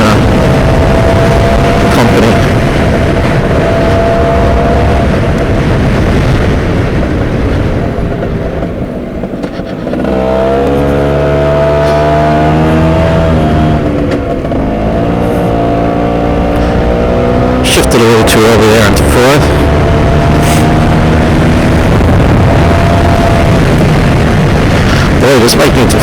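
A Stella LML scooter's small engine revs hard while riding, a loud continuous drone that rises and falls in pitch through repeated gear pulls, dipping briefly mid-ride before climbing again, with a rider's voice talking over it.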